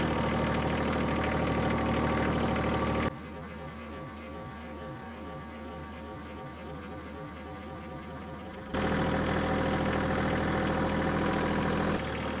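A tractor engine runs with a steady, close mechanical drone that drops away midway and then returns at full strength. A quieter stretch of softer, irregular engine sound lies between the two loud sections.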